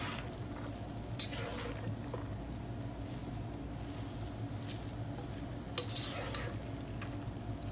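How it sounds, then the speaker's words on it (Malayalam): Leftover rice with biryani masala is stirred in a pan, giving a steady scraping and shuffling over a low sizzle, with a few sharper clinks of the spoon against the pan and no speech. "മസാല പിടിക്കണ പോലെ ഇളക്കുക"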